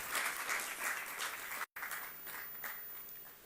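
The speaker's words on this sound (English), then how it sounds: "Let's give them a round of applause" An audience at a sport awards ceremony applauds steadily, with a dense, continuous patter of clapping heard from a moderate distance. The clapping breaks off for a brief instant midway, then carries on.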